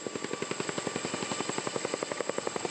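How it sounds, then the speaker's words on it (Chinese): A firefighting helicopter flies near Meinong Lake in Kaohsiung, shuttling water to a hillside wildfire. Its rotor beats a steady, rapid thumping rhythm throughout over a constant engine whine, with no talking. "直升机来到高雄美浓湖，救济了后，前往火烧山地点为空中抓水"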